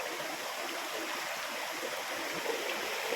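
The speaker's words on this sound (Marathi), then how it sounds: "झरा चालू झाला. जमिनीतून बाहेर पडतो स्वच्छ पाणी आहे" Clear spring water gushes out of the ground in the Konkan region during the monsoon, a steady, close rushing and bubbling flow that fills the whole stretch without pause or voices.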